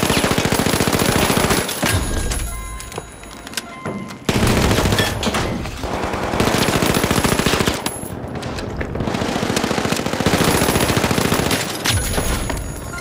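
Rapid automatic gunfire in the video game The Finals, dense bursts of loud shots in quick succession with brief gaps, sustained through most of the stretch.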